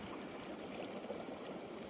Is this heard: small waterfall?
yes